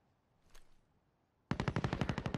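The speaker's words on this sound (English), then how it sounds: "Who the fuck's firing over my head?" Automatic gunfire in the video game Warzone rattles overhead: a faint distant shot first, then after a pause a loud close burst of rapid, evenly spaced rounds to the end.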